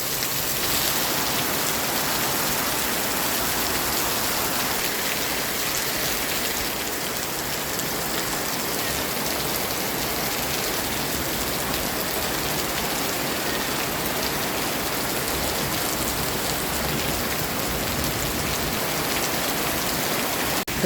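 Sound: heavy rain during a storm

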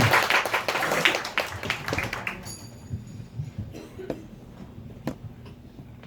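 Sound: audience applause

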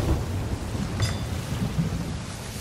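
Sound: thunderstorm in Sea of Thieves video game

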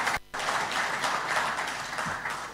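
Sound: audience clapping for the IGAD chairman

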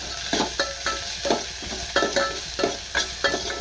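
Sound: frying coriander and green chillies in a pan

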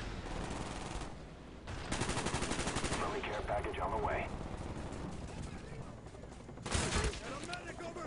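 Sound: AK-47 gunfire in the video game Black Ops

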